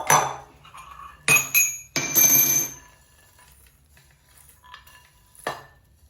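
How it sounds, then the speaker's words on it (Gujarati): Roasted spices pounded in a stone mortar with a pestle, a few sharp clinking stone-on-stone strikes in short bursts, close and fairly loud, with quiet gaps between them. "જે શેકીને રાખ્યા છે મસ્ત ખલપથ્થરમાં ખાંડી લઈશું"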